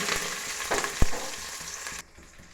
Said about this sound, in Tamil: அடுத்தது பூண்டு, வெங்காயம், கருவேப்பிலெலாம் எடுத்து வச்சுருக்கீங்க, அதை போட்டுக்கலாங்க.